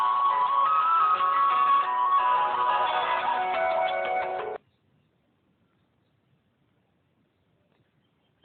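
A bright electronic melody plays loudly for several seconds, then cuts off abruptly into silence.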